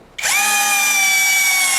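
A Masaru electric drill spins up after a quiet moment and holds a steady, loud, high whine close by, alone with no talking.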